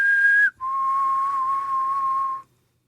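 A person whistles the Hunger Games tune by mouth, imitating the signal: one short high note, a brief break, then a long steady lower tone held for about two seconds. The whistle is loud and clear, with no talking.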